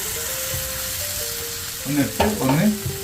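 Raw chicken pieces go into a pan of cooked-down tomato masala for a Kerala chicken roast with coconut milk, sizzling and frying under a steady background hiss, with stirring clatter and someone speaking briefly near the end.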